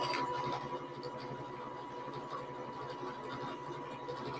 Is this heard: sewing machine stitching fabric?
yes